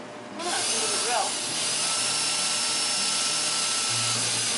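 A power drill whirs steadily and continuously from just after the start, fairly loud, with brief voices at the beginning, during work on a teardrop trailer.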